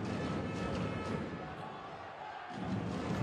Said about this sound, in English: Crowd starting to get into this one.